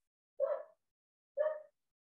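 A dog gives two separate barks about a second apart, short and clear, with silence between and after them.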